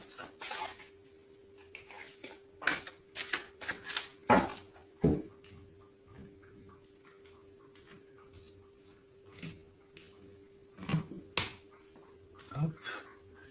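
Tarot cards being cut and shuffled, heard as scattered sharp snaps and soft slaps of card stock, close but fairly quiet, with a steady low hum underneath.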